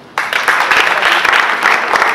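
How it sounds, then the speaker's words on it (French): Audience applause at an African Integration Day cocktail event, dense, steady clapping that starts abruptly and stays loud and close throughout. "ça s'applaudit."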